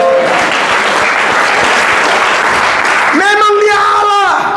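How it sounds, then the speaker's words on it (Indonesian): Applause from a congregation at a Christian church service, a steady wash of clapping throughout, with a voice singing or calling out near the end over the clapping. "Tepuk tangan."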